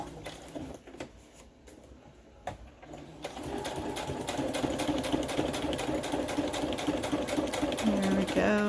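Sewing machine stitching through a paper collage with perforations, starting quietly then running steadily and closely from about three seconds on, with a voice talking over it.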